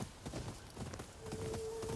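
Horse hooves clip-clopping at a steady trot in the Ghost of Yōtei video game, moderately loud amid game ambience with a faint tonal hum near the end.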